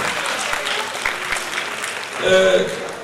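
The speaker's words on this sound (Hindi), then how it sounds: "बहुत जोरदार तालियां सभी के लिए।" An audience at the Hunar 5.0 grand finale in Ambala gives the children a loud, dense round of applause, a continuous wash of clapping, with voices rising over it near the end.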